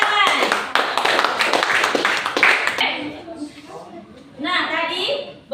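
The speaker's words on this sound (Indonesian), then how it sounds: "beri tepuk tangan" A group claps in a quick burst of applause for a few seconds, then it fades into children's chatter and a voice speaking.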